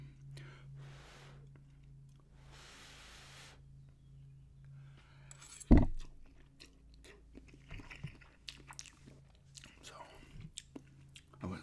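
Cup noodles are eaten close to the microphone, with soft wet chewing and occasional crunchy bites, one sharp clack partway through, and quiet whispered speech between mouthfuls.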